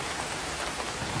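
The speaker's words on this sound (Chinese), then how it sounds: "瓢泼大雨，这才是真正的瓢泼大雨，简直就跟往下泼一样的。" A heavy downpour hammers steadily on the roof of an electric three-wheeler camper, a dense, loud, unbroken roar of rain with no voices.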